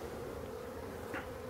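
Black forest bees buzz steadily at a hive, a continuous close, low drone that holds throughout with no talk.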